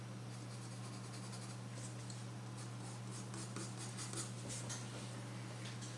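A pencil drawing skull and teeth details on paper gives faint, continuous scratchy strokes over a low steady hum, quiet and close, with no talking.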